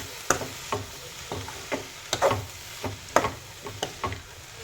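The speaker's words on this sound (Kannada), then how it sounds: "ನಂತರ ಇದನ್ನು ಮಿಕ್ಸ್ ಮಾಡ್ಕೊಳ್ಳೋಣ ಒಗ್ಗರಣೆ ಜೊತೆಗೆ" A spoon scrapes and knocks through ash gourd pieces being stirred into a sizzling tempering in a pan, making a steady run of close, sharp clicks and scrapes over a soft frying hiss.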